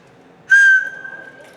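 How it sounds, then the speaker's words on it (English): A single clear, loud whistle on one steady high pitch, sharp at the start and held for about a second as it slowly fades. "That's the whistle."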